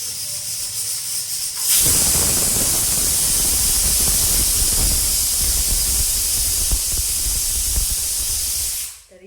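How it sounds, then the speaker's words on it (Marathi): A pressure cooker on a kitchen stove, boiling eggs, lets off a loud, steady hissing whistle of escaping steam that starts abruptly and holds for several seconds before cutting off, with no talking over it. "तर इथे शिट्ट्या झाल्यात. आता अंडी शिजलेली असतील."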